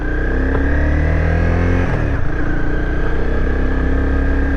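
A Honda CBR 250R motorcycle's engine revs hard and loud, pitch climbing through a gear, dipping briefly at a shift, then pulling steadily upward again, alone without talk.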